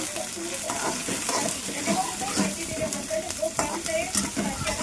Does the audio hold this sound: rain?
no